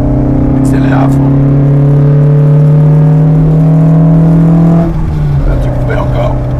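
An Alpine Berlinette A110 accelerates at full throttle on the Montlhéry circuit, its engine a loud, rising drone heard from inside the car that dips at a gear change near the end.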